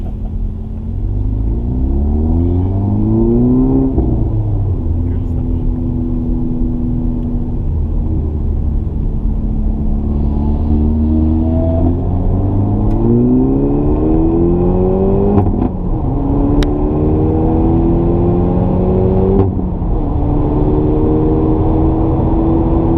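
A front-wheel drive car accelerating around the Spa circuit, heard from inside the cabin. A loud continuous engine drone rises in pitch through several gear changes, with a steady road roar underneath and no talking.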